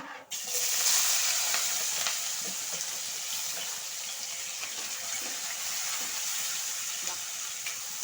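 Chana dal and mustard seeds crackle and sizzle in hot oil for a Bombay chutney, a steady, loud broadband frying hiss that flares up at the start and stays dense and continuous with faint stirring clicks, no voices.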